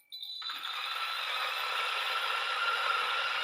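Turin DF64V Gen2 flat-burr coffee grinder running at about 1400 RPM and grinding 18 g of beans: a sudden start, then a steady close whirring grind with a gritty rattling texture throughout.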